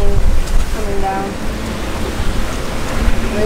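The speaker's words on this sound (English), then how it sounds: "It's showering, massive rain coming down." Heavy rain pours down at night on a sailboat at sea, on a rocky Pacific crossing out from Panama: steady dense hiss and patter with some faint tonal sounds mixed in, close and continuous throughout.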